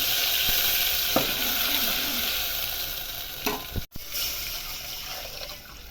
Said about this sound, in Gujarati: હવે છાશ ને ચણા લોટનો મિક્સ એડ કરી દઈશું મિશ્રણ.